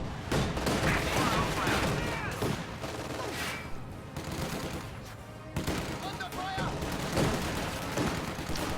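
Rifle gunfire and explosions crackle through a strategy video game battle, with dense, continuous volleys and heavy booms filling the mix while a commentator talks over the action.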